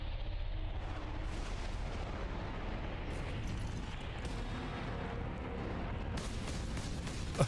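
Gunfire in Warhammer 40,000: Space Marine over a dense rumbling battle bed, with repeated heavy shots and booms cracking through a continuous low roar, loud and without voices.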